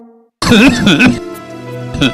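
Coughing and throat clearing from a person in a Hindi TV advert for Multani Ghoka cough syrup, heard as a loud, close burst of a few rough coughs followed by a sustained strained vocal sound.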